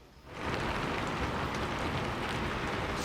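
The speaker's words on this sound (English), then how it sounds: "oh no, it's starting to rain" Rain comes on suddenly and builds into a dense, steady downpour that hisses loudly and evenly over an outdoor shelter, with no voices over it.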